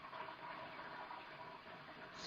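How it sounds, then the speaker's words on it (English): Water runs somewhere inside a house, a steady faint hiss and gush that holds on alone without talk, swelling slightly at the end. "Sounds like water running."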